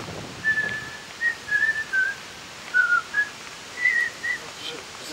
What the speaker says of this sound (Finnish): minä vihellän sinulle